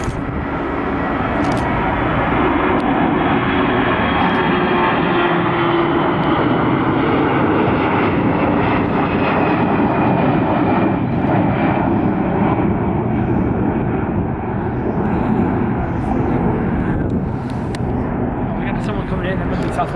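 A jet airliner coming in at Atlanta airport gives a loud, steady broadband roar that holds for about 20 seconds and slowly eases off, with people talking over it.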